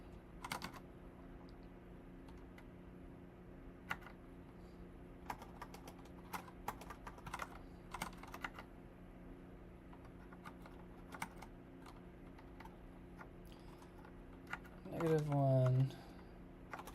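Rapid, irregular clicking of keys on a new computer keyboard, steady typing strokes throughout at close range over a low background hum, with a brief voice-like sound near the end.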